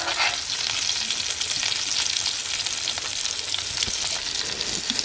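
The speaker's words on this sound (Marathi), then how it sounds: "या बाजूला हे नवीन पीस परत ठेवलेत फ्राय करायला" Fish pieces frying in oil in a pan, a continuous loud sizzle with crackling spatter running steadily throughout, no voices.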